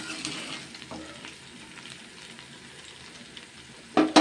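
Okra and shrimp fry being stirred in a pan, a steady close sizzle with scraping strokes, ending in a couple of louder knocks of the spoon against the pan.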